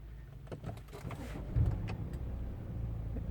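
A BMW 520d F10 diesel engine cranks and catches with a short, loud low thump, then settles into a steady, deep idle rumble close by.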